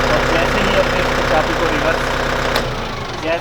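A Solis Yanmar 357 tractor's diesel engine idles after a key start, a loud, close, steady rumble with a knocking rhythm, under a voice, easing down at the end.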